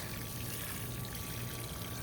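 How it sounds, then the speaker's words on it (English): Water pours in a steady, continuous stream, a soft trickling rush that runs unbroken from start to finish. "So we're going to go ahead and get this one watered in"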